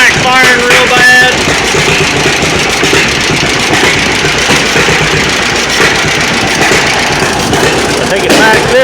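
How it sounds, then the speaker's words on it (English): A John Deere B tractor engine runs roughly with poor magneto timing, a loud, close, rumbling idle with irregular pops and sputters throughout. "It's backfiring real bad."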